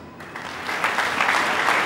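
A church congregation applauds its singers, a loud, close wash of many hands clapping that swells after a brief quiet start and stays dense to the end.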